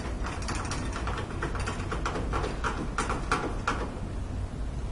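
Clamp screws are tightened down on cable sheathing in an electrical box during house wiring, making a steady run of small metallic clicks and ratcheting squeaks, close and moderately loud, with no talking.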